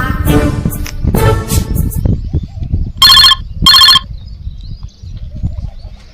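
A mobile phone ringtone trills in two short bright bursts during a phone call, following loud talking, with more speech afterward.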